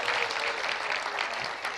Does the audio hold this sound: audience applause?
yes